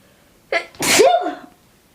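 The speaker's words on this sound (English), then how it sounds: "sorry, I just sneezed" A single close, sharp sneeze with a quick intake of breath before it, then quiet.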